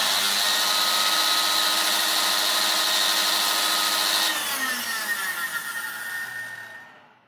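A restored Filter Queen Majestic vacuum motor runs with its belt removed, giving a loud, steady, whining hum. After a few seconds it is switched off and winds down, fading to silence.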